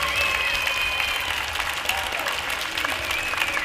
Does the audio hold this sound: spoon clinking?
no